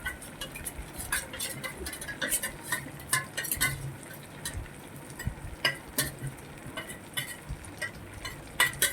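Chilli chicken is stirred in a pan, with a metal spoon scraping and clinking against it in irregular bursts over a faint sizzle, close and fairly quiet, with no talk.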